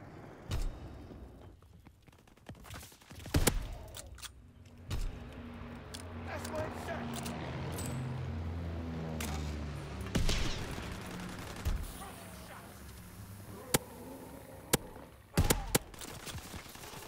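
Rapid bursts of gunfire from a Call of Duty WW2 Infected zombies match, sharp shots and automatic fusillades scattered across the scene among mechanical clatter, with a player talking over the action.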